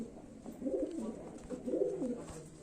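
A Naptamukho pigeon coos softly twice, low rolling calls close by over a faint background hum.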